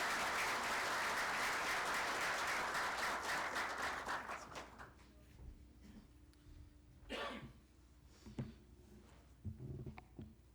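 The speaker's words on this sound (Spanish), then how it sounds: "pido que le recibamos con un fuerte aplauso" A conference audience applauds loudly to welcome a guest speaker. The clapping fades out after about four seconds, leaving a quiet room with scattered coughs and small rustles.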